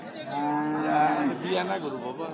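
A dairy cow lows at a busy cattle market, its drawn-out voiced call rising over a steady crowd murmur and nearby talk for about two seconds.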